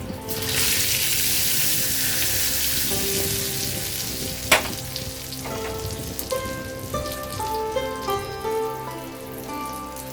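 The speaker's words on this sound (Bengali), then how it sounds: "1 চামচ কাশ্মীরি লাল লঙ্কার গুঁড়ো দিয়ে আমি একটু নাড়াচাড়া করে নেব" An egg tadka sizzles steadily in hot oil after Kashmiri red chili powder is stirred in, a loud close frying hiss with a sharp clink of a utensil partway through and background music underneath.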